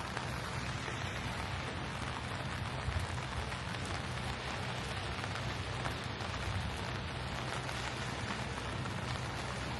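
Rain pours down on a wet day in Savannah, Georgia, a constant close hiss of drops spattering on pavement and surfaces, even and unbroken throughout with no voices.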